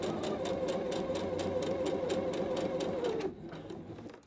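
A sewing machine runs steadily, stitching a zigzag along the edge of a hem on a man's boxer brief. The whirring holds for about three seconds, then stops abruptly and leaves a quieter tail.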